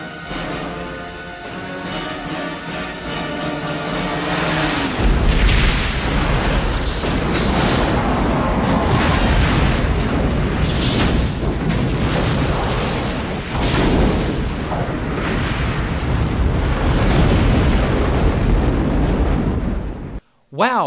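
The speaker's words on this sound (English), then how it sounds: "After the Klingon ship is destroyed, the Enterprise recoils under the damage it's taken." A photon torpedo detonation destroys a Klingon ship in Star Trek Generations, a loud, sustained rumbling boom that swells after a few seconds and rolls on for a long stretch before cutting off abruptly.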